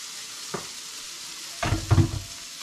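Carrots drop into a pan of frying onions, giving a couple of soft bursts of sizzle and stirring scrapes over a quiet hiss.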